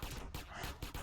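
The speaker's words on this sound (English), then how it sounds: "Somebody's shooting me with a shotgun" Shotgun fire in GTA San Andreas, a quick series of heavy, booming blasts spaced roughly every few tenths of a second, sounding somewhat distant and muffled.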